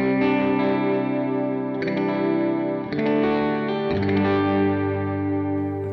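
Guitar played through a GFI System Specular Reverb V3 shimmer reverb with all knobs at noon, sustained chords swelling into a bright, shimmering wash, with a new chord struck every second or so and no gaps.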